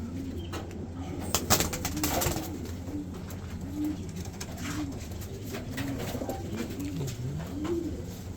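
A racing pigeon, a long-distance race winner, coos repeatedly in low, rolling calls close by, with some wing flutters and background noise.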